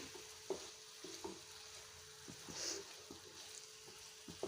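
A spatula stirs prawn roast with tomato in a pan, giving quiet, irregular scrapes and clicks over a soft, low sizzle.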